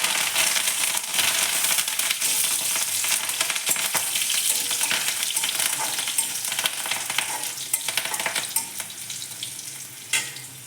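Green chili and curry leaves crackle and sizzle loudly in hot oil with crushed garlic, a dense continuous frying hiss heard close up while being stirred, with no talking.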